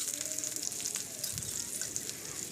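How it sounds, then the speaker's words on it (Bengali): Chopped onion and green chili fry in a pan with mustard seeds, giving a soft, steady sizzle and faint crackle at low volume, with occasional light stirring taps. "তো পেঁয়াজ কুচিটাকে খুব ভালো করে এখন ভেজে নিচ্ছি"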